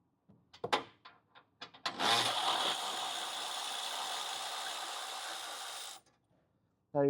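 A ratchet wrench loosening 17 mm bolts on a 2026 Subaru Outback Wilderness during a brush bar install: a few sharp clicks, then a steady whirring rasp of several seconds, close and without talk.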